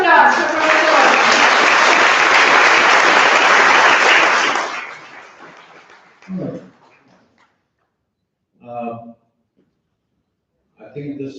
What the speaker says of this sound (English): A huge round of applause for Professor.